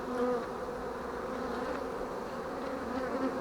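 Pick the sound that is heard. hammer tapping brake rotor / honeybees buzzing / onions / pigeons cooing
honeybees buzzing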